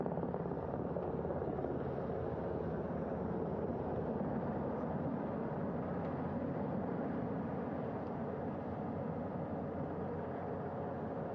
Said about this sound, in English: Wheels down of the first helicopter carrying 2 of our Artemis II crew.